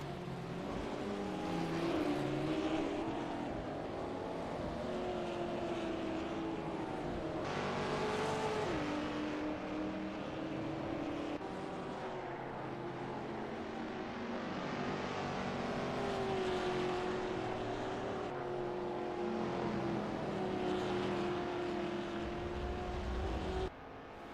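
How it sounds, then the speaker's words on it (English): Race cars roar steadily through a racing video game at Oran Park, engines rising and falling as several cars run close together, with gravel excursions; a loud, continuous engine drone throughout, with no speech. "the Williams cars taking to the gravel and losing that place that he'd gained to Aaron Fiedelack"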